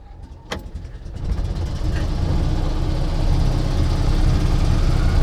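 Invacar driven on a test drive, its engine rising into a steady rough rumble after a short click and start, heard close from on board and growing louder.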